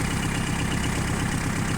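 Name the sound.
minitractor engine running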